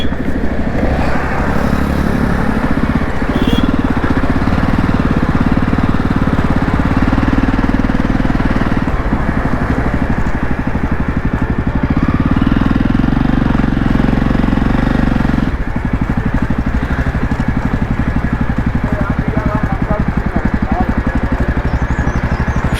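A parked motorcycle idles at Vishnuprayag in the Himalayan mountains, a loud, steady, throbbing engine rumble that runs unbroken throughout.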